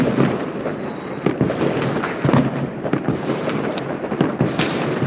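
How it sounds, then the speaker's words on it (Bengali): New Year fireworks and firecrackers in Croatia burst in rapid succession, a continuous barrage of sharp pops and booming cracks, some near and some distant, echoing through foggy night air. "এরকম আওয়াজ আরে টানা এভাবে আতসবাজি"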